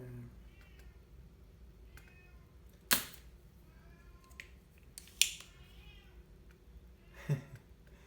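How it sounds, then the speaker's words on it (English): A cat meows repeatedly outside an office door, muffled and somewhat distant, while a few sharp clicks and taps sound nearby during electronics repair. "cat Buddy wanting to get into my office"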